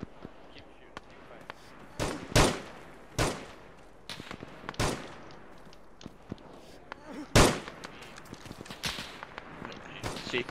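Gunfire in the military game Arma 3 during a battle at Hakamäki: sharp, loud single shots and short bursts crack at irregular intervals, some close and some more distant, with no talk in between.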